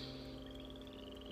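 A frog croaks in a short, steady run of low pulsing calls under a constant hum, heard for a little over a second with no talking.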